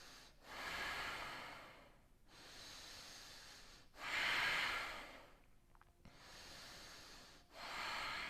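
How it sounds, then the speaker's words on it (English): Slow, deep breaths taken during a yoga pose in a vinyasa session for back pain, each long airy inhale and exhale clearly audible, close and soft, repeating in an even rhythm with no talking. "Let's take 3 more breaths."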